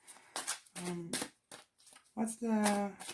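Tarot cards are shuffled, giving brief papery riffles and slaps between and under a person's close, clear speech.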